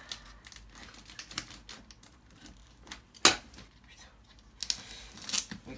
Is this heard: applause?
no